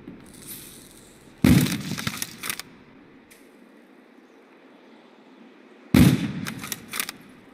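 A sniper rifle from Call of Duty: World at War fires two loud, sharp shots a few seconds apart during a custom zombie map. Each crack leaves a short ringing tail over a faint background hum.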